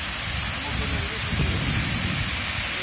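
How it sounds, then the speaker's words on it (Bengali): A loud, continuous roar of rushing water dominates, deep and broadband, from the Hamham waterfall in Kamalganj, Moulvibazar, Bangladesh, heard up close. "আপনারা দেখছেন হামহাম জলপ্রপাত, মৌলভীবাজারের কমলগঞ্জে এটির অবস্থান।"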